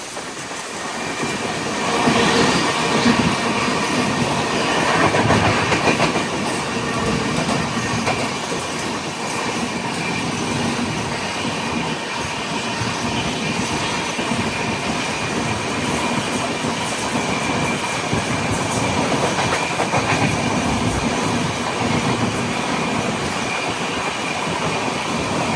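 Venad Express train running on rails near Angamali in Kerala, a loud continuous rumble with rhythmic clickety-clack of wheels and occasional squeal, heard alone without talk throughout.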